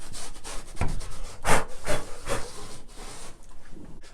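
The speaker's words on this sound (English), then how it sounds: "And give it a wipe down. Just remove that powder coating that's left on there." A cloth rubs over a melamine chipboard shelf to wipe off leftover powder, giving a few soft, close scraping swipes in an irregular rhythm with brief pauses between strokes.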